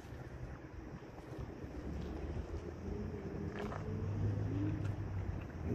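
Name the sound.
wind blowing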